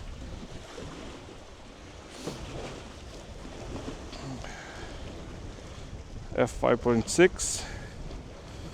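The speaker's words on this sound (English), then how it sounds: "The wind is coming this direction" Wind buffets the microphone by the ocean, a steady rumbling gust over distant surf, with a person talking partway through.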